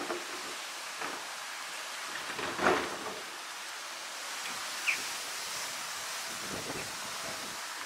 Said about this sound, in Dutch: Inmiddels een beetje te regenen.